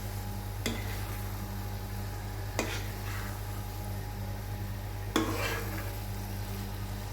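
Spoon stirring a pan of Bengali cauliflower ghonta as a spoonful of ghee goes in, a few brief scraping clinks standing out over a steady low cooking hiss, with no talk.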